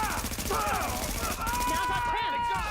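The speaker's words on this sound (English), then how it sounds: "I should use the SMG." Rapid SMG fire in the shooter video game The Division crackles in a dense, sustained burst throughout, with someone talking over it.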